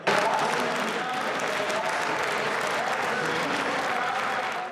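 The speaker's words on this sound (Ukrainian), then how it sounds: "Зала зривається оплесками." A parliament hall erupts in applause as a patriarch enters the guest box, a dense, sustained roar of many hands clapping at full strength for several seconds.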